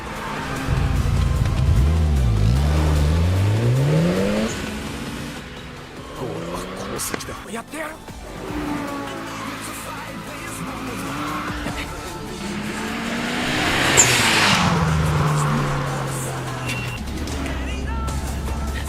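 A Mitsubishi Evo being driven hard, its engine rising and falling through loud revving sweeps with tire squeal and skidding, close and steady throughout with a brief lull midway.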